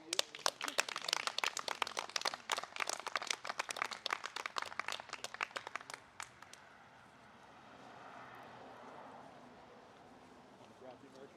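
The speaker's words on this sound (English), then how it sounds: "I think we should applaud that for you" Applause from a gathered crowd at an outdoor pride flag hoisting, dense steady clapping for about six seconds before fading out, followed by quiet open-air ambience with faint distant voices.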